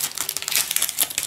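Close crinkling and snipping of a plastic sponge-cake wrapper as scissors cut through it in quick, uneven bursts.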